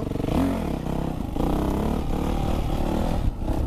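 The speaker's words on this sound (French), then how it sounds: "Je vais vous faire un petit wheeling rapide on va dire." A motorcycle revving hard and accelerating through the gears during a wheelie, its engine loud and close with a continuous droning roar that shifts pitch between gear changes.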